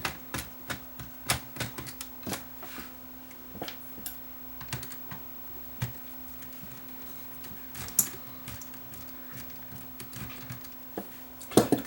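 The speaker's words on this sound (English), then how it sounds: "So I'll remove the screws that hold the mechanism on." Screws being taken out of the mechanism of a Luxman KX100 cassette deck during repair: a run of small sharp clicks and ticks, close and fairly quiet, spaced irregularly across the whole stretch, with a slightly louder tap at the end.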